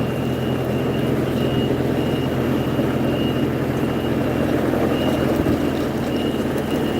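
Truck reversing beeps repeat at an even pace over a constant engine rumble outdoors on a street, the tones clear but not very loud and continuing throughout.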